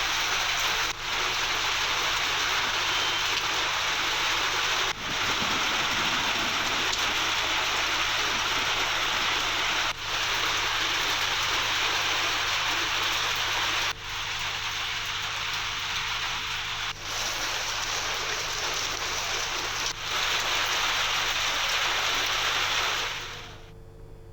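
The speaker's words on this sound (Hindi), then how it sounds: "अभी बारिश से राहत नहीं मिलने वाली है" Heavy rain falls in Uttarakhand as a dense, unbroken broadband hiss that stays loud and steady, with brief cuts between shots and a fade at the end.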